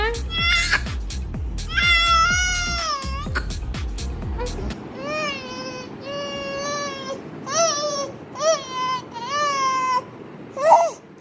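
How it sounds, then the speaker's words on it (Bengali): An infant of about three months cries at night, loud wailing bursts in the first seconds followed by repeated shorter, rising and falling sobs and whimpers close by, with no other voices. "কত কান্দন, কান্দে চোখ দিয়ে জল বাইরে পড়ছে"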